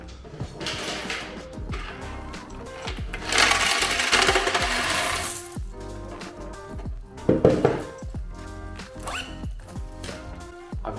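Coins cascade and clink into a vending machine being refilled, a dense metallic jingle that swells into a long loud rush of tumbling change, then settles into scattered clinks and a second burst of rattling coins.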